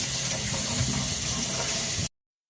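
Cherries are washed under a running kitchen tap while preparing Jamaican natural juice. A loud, steady gush of water continues for about two seconds, then stops abruptly into silence.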